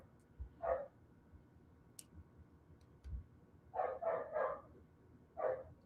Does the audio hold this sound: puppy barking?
yes